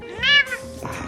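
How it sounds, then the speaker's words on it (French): A house cat gives a single clear, close meow, rising and falling, with brief room noise afterward. "Voilà, c'est Gris-Gris, le chat de la maison."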